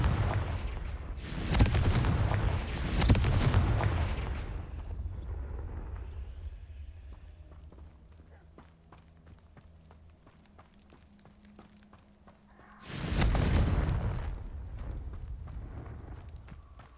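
Confringo fire spell cast in Hogwarts Legacy: two loud explosive bursts close together near the start, a third blast later, each with a booming low rumble, over quieter ambient game sound.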